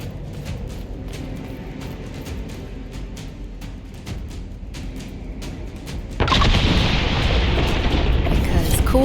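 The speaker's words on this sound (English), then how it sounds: "Cool guys don't look at explosions." Set charges detonate in Dragon Age: Inquisition: a steady bed of game ambience with scattered clicks gives way to a sudden loud, broad blast that swells into a sustained roaring rumble for the last few seconds.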